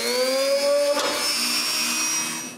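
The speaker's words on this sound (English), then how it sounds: "I need to drill some holes for the miniature nails that holds it in place" A small drill bores holes in a walnut clock case for miniature nails, giving a steady close high-pitched whine that dips briefly partway through and then trails off.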